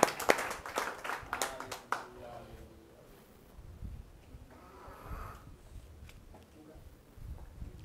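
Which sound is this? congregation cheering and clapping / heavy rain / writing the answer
congregation cheering and clapping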